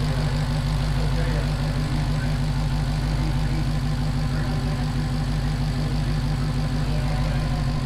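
A supercharged Dodge Redeye 2.7L engine fires for the first time and settles into a smooth, steady idle with an even low-pitched pulse, close and continuous, with no talking.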